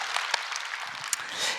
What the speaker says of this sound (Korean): 우리 주님 앞에 박수로 감사와 영광 올려드립니다.